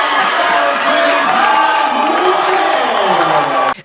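Loud crowd at a school basketball game cheering, whooping and chanting MVP after a close home win, a dense sustained roar of many voices that cuts off abruptly at the end.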